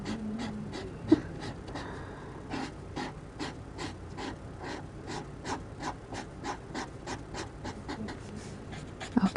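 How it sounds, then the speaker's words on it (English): Steady rhythmic breathing and soft snorts from a dog snoring nearby, repeating every half second or so under a faint background hum. "My dog is snoring in the background."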